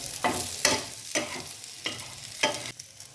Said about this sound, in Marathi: उरलेला मसाला आहे तो मिक्स करून घेऊया